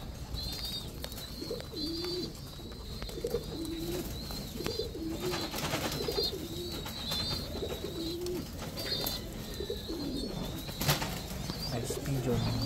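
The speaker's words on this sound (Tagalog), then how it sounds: "Ice pigeon yan." Ice pigeons coo in repeated soft, low phrases nearby in a breeding loft, with occasional wing flaps and a steady high chirping from other birds in the background.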